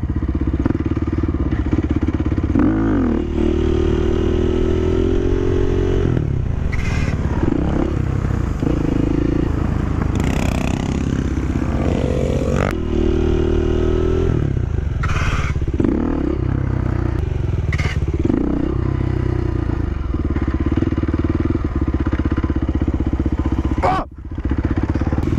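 Motorcycles coasting with the clutch pulled at a small rider meetup, a loud continuous engine drone with scraping and clattering bursts as a license plate drags on the road, a rider talking over it.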